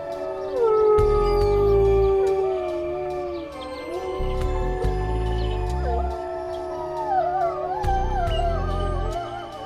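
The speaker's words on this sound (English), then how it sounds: "Why do they howl?" Several gray wolves howl together in a long, overlapping chorus of sliding tones, with a low rumbling backdrop beneath, loud and sustained throughout.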